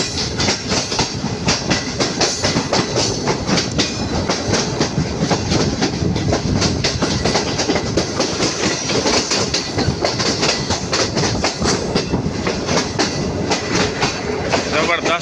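Green Line Express passenger train in Pakistan running on the track: a loud, continuous roar of wheels with steady rhythmic clickety-clack beats over rail joints, heard close from inside or beside the carriages throughout.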